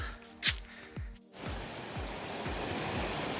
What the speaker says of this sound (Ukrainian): Це річка Лопушна. Ми її переходимо.